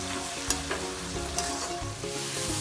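Tomato masala cooks in oil in a pan for baingan bharta, giving a steady close sizzle with a few clinks and scrapes of stirring, and no voices.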